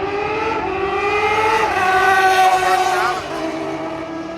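Drag racing cars at a motorsports park, including a GTR, with loud engines rising through the gears in swept whining tones, close and strong before fading away.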